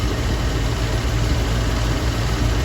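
A 1966 Ford Thunderbird engine idles with a steady low rumble, close and even throughout, while the car has an electrical fault and its battery terminal is disconnected.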